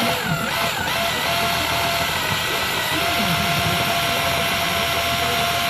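A mixer whips air into wine must before the yeast goes in, a loud steady whirring drone that runs unbroken from start to finish, close and alone.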